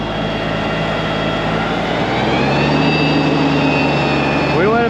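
A smaller forage chopper moves feed one load at a time, its heavy engine droning loud and steady throughout with a constant low hum and higher mechanical whine. No voices are heard.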